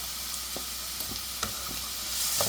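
Finely chopped onion with salt sizzling in a pan while a spoon stirs it, soft steady frying hiss broken by a few distinct scraping knocks, close and fairly quiet, no voices.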